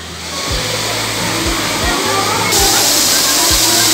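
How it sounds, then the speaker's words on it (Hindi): Artificial waterfall splashing steadily inside a jungle-themed Laxmi Puja pandal in Khalna, West Bengal, a broad continuous rush under crowd noise with low rhythmic thumps from festival music or machinery. "यहाँ से झरना बह रहा है देखो"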